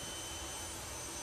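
Jet dragster turbine spinning over at a drag racing start line, a steady loud rushing whine and roar with no talking.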